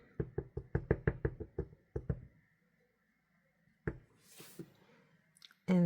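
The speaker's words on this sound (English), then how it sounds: "Just tap, tap, tap." Ink pad tapped onto a rubber stamp for a fall fold card: about a dozen quick, close, sharp taps in a steady run, then a brief pause and a few scattered knocks and rustles.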